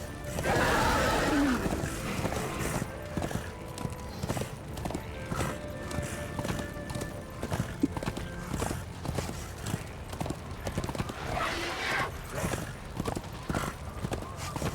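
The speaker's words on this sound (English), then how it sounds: "Good thing the horse is easy to get on and off of." A horse in the video game Darksiders 2 whinnies loudly at the start, then its hooves clop in a steady, brisk rhythm throughout, fairly close, with a few soft game sound effects over it.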